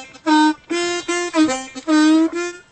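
Blues harmonica played with poor technique, moving back and forth between the 2-draw and the 1-2-3 chord draw, giving a series of sustained reedy tones broken by short gaps and wobbly, uneven transitions, close and fairly loud.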